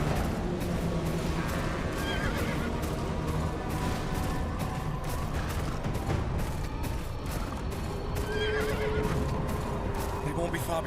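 Horses neigh and whinny repeatedly over a steady patter of hooves in a video game, with gunfire and dense background action throughout and occasional voices.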